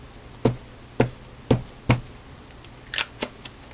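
Rubber stamp pressed onto paper for card making, four sharp evenly spaced thumps followed by a few lighter taps, close and clear with no talking.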